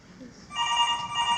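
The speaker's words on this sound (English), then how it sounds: "Ken, the phone is ringing." An electronic telephone ring trills steadily at moderate volume over a faint background murmur.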